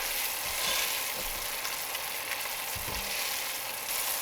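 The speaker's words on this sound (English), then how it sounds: "When it comes to boil, turn the heat down a bit and let it simmer to thicken" Thick sugar syrup bubbling and simmering steadily in a pot, a continuous close sizzling, popping texture with occasional deeper bubbles.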